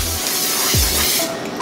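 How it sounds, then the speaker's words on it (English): Cooking spray hisses from a can onto pancake pans in a home kitchen, a loud close burst of broadband hiss lasting about a second, with no talking. "we're gonna spray our pans down"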